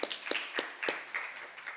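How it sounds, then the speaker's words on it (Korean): A Sunday church congregation gives congratulatory clapping for a newly married member, heard as a few sharp, evenly spaced claps, faint and distant, fading into a soft murmur. "축하의 박수 하겠습니다"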